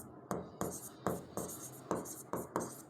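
Chalk or marker scratches across a board in a class lesson on coordinate geometry. About six distinct strokes land in an uneven rhythm, close and fairly quiet, with no one speaking.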